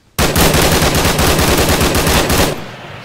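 Loud unsuppressed automatic gunfire from a video game, one long rapid burst of evenly spaced shots lasting over two seconds before cutting off, with no voices.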